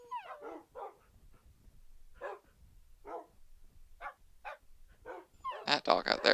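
Dogs in a video game, apparently Minecraft, let out a series of short, close barks and yips spaced across several seconds, rising to a louder cluster of barks at the end.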